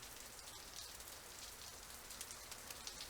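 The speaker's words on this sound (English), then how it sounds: "when the rain started to fall" Steady rain falls on a surface, a dense continuous patter with occasional louder drops; no voices, fairly quiet overall.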